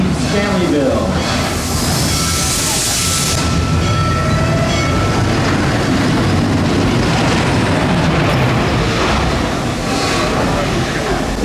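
A Busch Gardens steam train pulls out of Stanleyville station: a loud, steady rumble of wheels and chugging with a brief hiss of steam near the start, under an announcer's voice over a loudspeaker.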